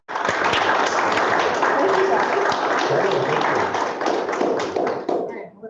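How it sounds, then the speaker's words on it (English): Meeting attendees give a dense round of applause lasting about five seconds, loud and close, then fading away at the end. "All right, round of applause."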